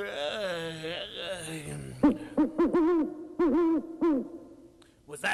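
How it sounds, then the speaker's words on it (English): A speaking voice at first, then a string of soft, rhythmic owl hoots, about six short calls in a steady pattern, fairly close and clear. "That's just an owl."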